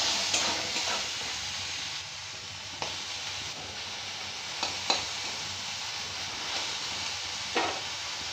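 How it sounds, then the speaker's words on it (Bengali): Pointed gourd (potol) pieces sizzling steadily in hot oil in a pan, a soft continuous fry with occasional sharp clicks and scrapes as the pieces are turned and flipped. "এবারে উল্টে পাল্টে ভালো করে লাল লাল করে ভেজে নিতে হবে।"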